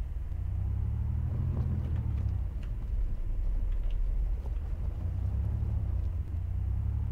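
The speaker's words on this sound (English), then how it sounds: "My car is not making nice sounds." A van engine labours uphill on a mountain road in ArmA 2, giving a continuous deep rumble that swells and eases, with faint scattered clicks and no voices.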